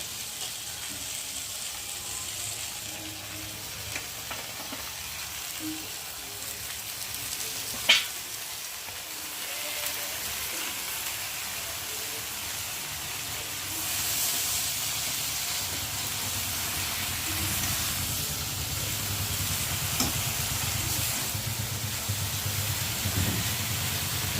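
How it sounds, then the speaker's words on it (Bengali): Pumpkin greens fry in a hot pan with a steady, continuous sizzle and hiss, close and even throughout, with an occasional faint clink and no voices. "ভাজা হয়ে যাচ্ছে, আর এখন এই কুমড়ো শাকগুলোর মধ্যে ঢেলে দেবো"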